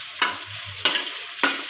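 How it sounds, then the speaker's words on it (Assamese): Onion and chilli frying in hot oil for an Assamese chicken dish, a steady sizzle punctuated by three sharp scraping stirs at regular intervals. "এইটো অলপমান ৰঙচুৱাকৈ ভাজিব লাগিব"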